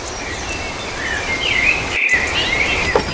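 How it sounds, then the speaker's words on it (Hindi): Birds chirp in a cartoon village, thin warbling calls trilling continuously over a soft insect-like buzz. "चारों ओर पंछियों की चहचहाट सुनाई दे रही थी।"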